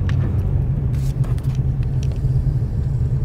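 A car travels along the road with a steady, close, loud engine and road rumble that holds level throughout, with a few faint clinks on top and no talking.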